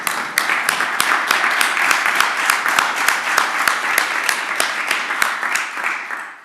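An audience at a company's annual general meeting applauds, a dense, steady wash of many hands clapping that carries on loudly throughout and tapers slightly at the end.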